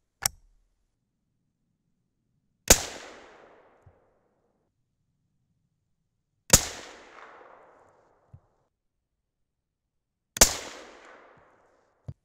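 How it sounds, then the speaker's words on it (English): Three sharp 6.5 Creedmoor rifle shots fired with a Vihtavuori N550 handload, 40 grain charge, each a loud crack with a decaying echo tail, spaced several seconds apart with quiet between and faint clanks after. "I've had a couple of these shots so far that I think I felt just the slightest little bit of a hang fire."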